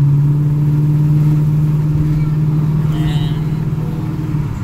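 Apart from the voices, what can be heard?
Lexus ISF engine revving under full-throttle load, catalytic converter deleted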